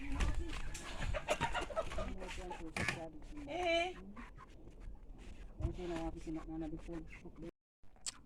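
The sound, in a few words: chickens clucking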